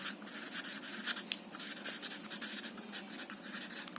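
Pen writing notes on paper during an electrical engineering lecture, a steady close scratch of strokes with short pauses and lifts, no talk.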